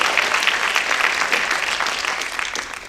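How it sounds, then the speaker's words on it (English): An audience at an essay contest awards ceremony claps steadily, dense and loud throughout with no pauses. "Let's clap for this guy."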